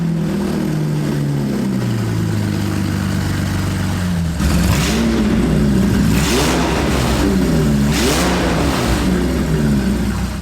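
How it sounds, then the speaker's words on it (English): BMW 750i engine running without its catalytic converter, a loud steady drone that turns rougher and louder, then is revved in three or four rising and falling pulls, heard up close. "Let's see what a car sounds like without the catalytic converter."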